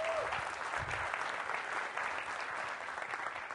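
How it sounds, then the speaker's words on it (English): A conference audience at a server-chip presentation gives a round of applause, dense steady clapping filling the whole stretch at moderate volume, with no voices over it. "Let's give him another round of applause for that."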